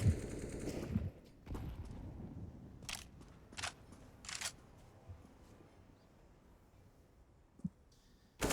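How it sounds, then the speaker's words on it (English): Pistol shots in the video game CS:GO during a pro match on the Overpass map, a burst of sharp clicky gunfire at the start, then scattered single shots and clacks over quiet background noise. "Dren firing some shots off, and that's going to be another casualty for Team 1"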